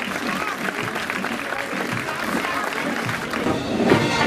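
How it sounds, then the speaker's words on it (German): An outdoor crowd at a district music festival parade claps warmly for children and their companions, a steady wash of applause with some voices underneath that swells slightly at the end. "Geben Sie den Kindern und Begleiterinnen einen herzlichen Applaus."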